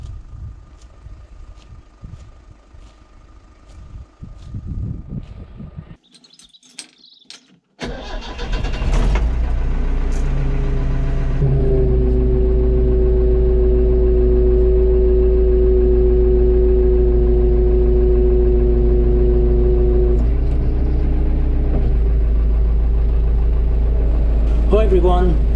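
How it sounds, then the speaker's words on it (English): A digger's engine cranks and starts after some quieter handling noises, then settles into a loud, steady diesel rumble with a droning tone held close by for the rest of the clip. "Having made a minor repair to my digger, I decided to take it for a test drive."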